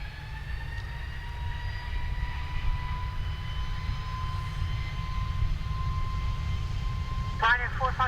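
SAS Airbus A320neo jet engines at Dublin Airport on an overcast morning, a distant, steady whining roar with a sustained tone over the airfield, with a brief burst of nearby noise near the end.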